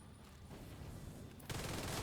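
Long-range artillery fire in a video game, a dense rumbling fusillade of distant blasts building to a louder, brighter burst of impacts near the end, with no talk.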